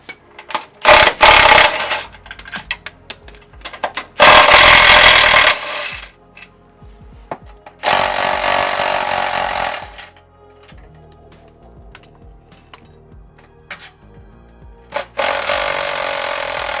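A power tool loosens bolts on a Toyota 80 Series skid plate in several loud bursts of whirring and rattling, separated by quieter stretches of small metallic clinks and handling noises, close by.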